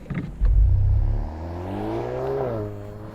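VW Golf R driving away during a drag race against a BMW M135i, AMG A35 and Audi S3: a loud close engine surge fading into a rising whine as the car pulls off into the distance.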